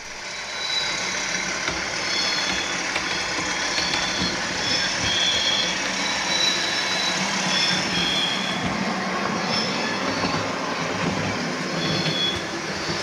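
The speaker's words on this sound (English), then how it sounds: "Here we see the Class 47 King's Lynn entering the station area, running light on the down line." A Class 47 diesel locomotive running light on the down line as it enters a station area, giving a steady rumble with rail noise and faint high squeals throughout, continuous and fairly near.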